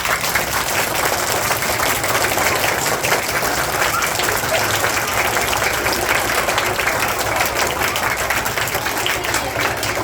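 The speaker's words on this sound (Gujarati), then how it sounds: "જોરદાર તાળીઓ।" Audience applause at a school annual function, a loud, sustained burst of many hands clapping steadily for about ten seconds, crowd-wide and even, with no one speaking over it.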